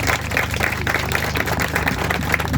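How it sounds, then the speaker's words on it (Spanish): A community gathering in La Calera applauds a neighbour, a steady wash of many hands clapping at moderate volume, continuous for the whole stretch with no talking. "Un aplauso para el vecino"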